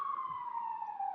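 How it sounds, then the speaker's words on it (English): Emergency sirens wail outside a building in Brooklyn, a steady, loud, slowly falling tone heard clearly from street level. "Man, those sirens are going crazy."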